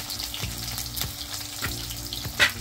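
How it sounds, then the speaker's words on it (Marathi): Crushed garlic cloves, green chilies and onion roast in hot oil in a pan, a steady close sizzle broken by a few sharp clicks and scrapes, with no voices. "आता हे मिश्रण आपण छान असं भाजून घ्यायचं।"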